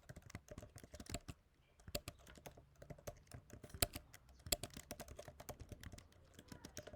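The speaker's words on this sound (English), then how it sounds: "So I'm trying to type as smooth as I can." Rapid, fairly quiet clicking of computer keyboard keys in an irregular typing rhythm, close and alone with no voices.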